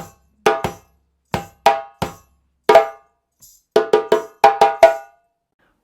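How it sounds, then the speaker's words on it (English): A djembe break introducing the Kalayla rhythm: sharp, loud hand slaps in clustered groups separated by short pauses, building to a dense rapid flurry near the end, played alone and close. "so let's put that whole break together"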